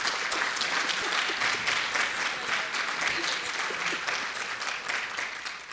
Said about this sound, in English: And I think just that needs an applaud.